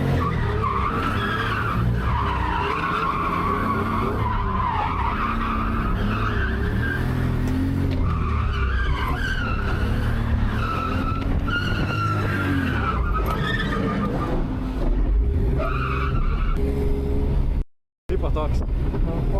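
A drift car slides on slippery asphalt coated with rubber, its tires squealing in long, wavering howls over a steady engine drone, close and loud for most of the stretch before a brief drop-out near the end.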